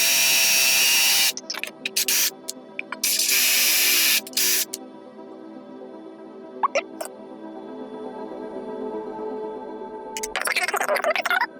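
A power driver sinks screws into the panel of a Yamaha REX50 effects unit in a handful of harsh buzzing bursts, with quiet gaps and small clicks between them and a longer final run.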